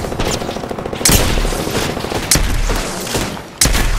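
Automatic weapon fire in an Apex Legends match, a loud, continuous rattle of rapid shots with sharp, booming reports punctuating it at intervals.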